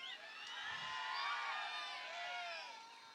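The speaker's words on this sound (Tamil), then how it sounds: "ஒரு கைதட்டு கொடுக்கலாம்." Audience at a village drama performance of Valli Thirumanam in Moongil Oorani near Manamadurai, a steady crowd noise of clapping and cheering throughout, fairly loud and continuous with shouts mixed in.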